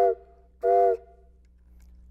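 Two short, tonal whistle blasts from a silent-film-era multi-tone sound-effect whistle imitating a train, the second longer and louder, separated by a pause, with another starting at the end.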